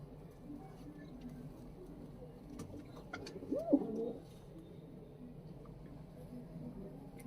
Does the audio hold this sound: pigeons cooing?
yes